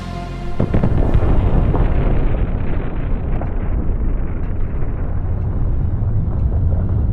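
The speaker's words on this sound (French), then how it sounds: "Leur flotte a miraculeusement explosé." A loud, rumbling explosion as an enemy fleet blows up, rolling on as a long, crackling roar that slowly fades.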